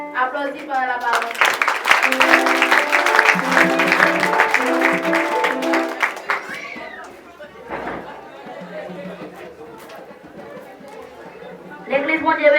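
A church congregation applauds during a service, with a dense patter of claps mixed with loud voices and singing for several seconds, then quieter talk and scattered sounds before the noise swells again at the end.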